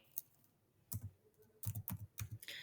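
Computer keyboard typing a print statement in Python code, a few sharp isolated key clicks followed by a quick close burst of keystrokes, fairly quiet.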